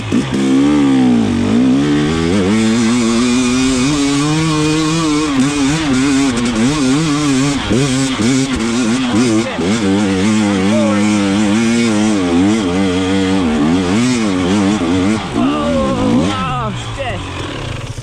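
An enduro dirt bike climbs a hill in second gear with the rider standing on the pegs. The engine roars loudly and continuously, close by, its pitch wavering as the throttle rises and falls, with occasional voice under the noise.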